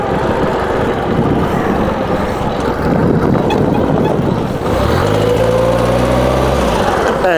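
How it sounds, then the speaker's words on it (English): A 1939 Indian 439 motorcycle engine being ridden on the road, a loud, close, smooth steady drone that drops briefly and then rises again in pitch as it pulls through the gears. "Just purrs along, the sound. Listen to that engine."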